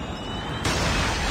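A Predator missile strike in the Call of Duty Mobile shooter game, a low rumble suddenly breaking into a loud, wide blast halfway through that keeps roaring to the end.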